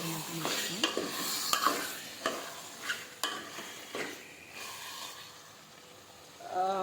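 A spoon stirring chicken curry masala in a pan, several scraping strokes with soft sizzling underneath, close and fairly quiet with no talk.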